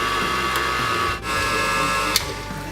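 An electric stand mixer whirring steadily as it mixes cake batter for cake pops, a loud close motor hum with a faint knock or two, and no voices.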